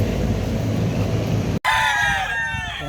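Chickens cluck at a chicken farm in Cavite while a rooster lets out loud, close crowing calls in the second half. A steady low rumble fills the first part and cuts off abruptly.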